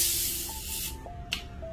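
A Pepsi can snapped open close up, releasing a strong sharp fizzing hiss that fades over about a second, followed by faint crackle and a couple of small clicks, with no talking.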